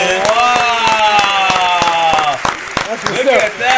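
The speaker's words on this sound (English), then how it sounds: "Round of applause one time, Michelle one time in the building." Loud, close applause for a birthday in a studio: dense, rapid handclaps run steadily under a sustained shouting or singing voice, thinning into a few scattered claps at the end.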